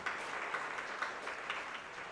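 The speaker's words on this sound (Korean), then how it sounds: "감사의 박수 한번 보내주시기 바랍니다" A congregation at a church retreat applauds in thanks, a soft, steady wash of many hands clapping together at some distance, with no voices over it.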